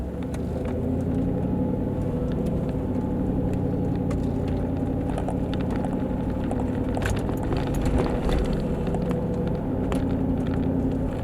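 A 2003 Mercedes G55 AMG G-Wagon pulls away at low speed, its engine a steady, loud, close rumble inside the cabin as it accelerates gently in low gear, with no talk over it.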